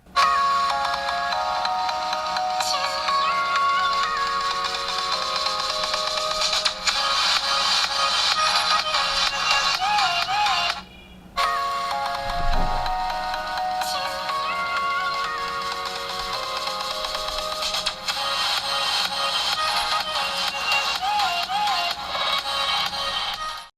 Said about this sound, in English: Here's how the speaker compares side by side with the Spark 5.